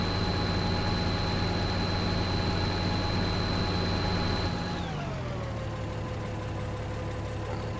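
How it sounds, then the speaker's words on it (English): Tractor engine in the Farming Simulator 2013 game drones steadily with a strong tonal hum, then drops in pitch about two-thirds through as revs fall, settling into a lower steady run; no voices. "It's a very nice tractor. It's got pretty good speed, pretty good power"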